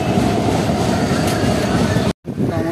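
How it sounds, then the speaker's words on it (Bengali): Heard from on board the 15233 Darbhanga Maithili Express as it runs alongside a Kolkata Metro train, a loud continuous rumble and roar of rail movement cuts out abruptly near the end and then returns more faintly. "আমাদের মৈথিলি এক্সপ্রেসের সঙ্গে কলকাতা মেট্রো ট্রেনের প্যারালাল রেস চলছে।"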